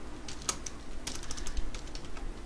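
Rapid key clicks on a computer keyboard as Java exception-handling code is typed, an irregular run of close, light taps alone without talk.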